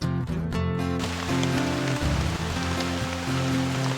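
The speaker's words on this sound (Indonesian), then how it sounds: "Hujan masih turun mengguyur rumah bambuku dan udaranya makin dingin banget gengs." Heavy rain pouring steadily onto a bamboo house at night in a forest, a dense continuous roar of drops close by, with no voices.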